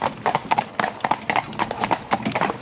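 Horse hooves clip-clop in a steady walking rhythm, close and clear, each footfall a crisp knock repeating several times with no talk over it.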